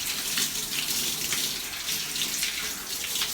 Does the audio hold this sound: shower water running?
yes